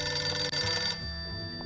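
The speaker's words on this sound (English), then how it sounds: "Oh, phone's ringing." A telephone rings in the video game 1954: Alcatraz, its bright, steady ring sounding over background music and then carrying on more faintly in a short burst.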